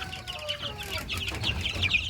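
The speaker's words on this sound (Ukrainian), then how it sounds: "Це ще одне стадо наших бентамочок." Several bantam chickens clucking and chattering close by, overlapping soft calls and a few higher squawks, no voices.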